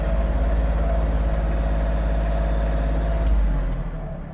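An Iseki TG-273 Japanese mini tractor creeping along in its lowest reduced gear, its small engine chugging loud and close in a steady rapid pulse, easing off slightly near the end with a brief clank.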